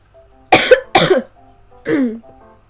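Two sharp coughs in quick succession, then a third rougher, throaty cough after a short pause, loud and close over faint background tones.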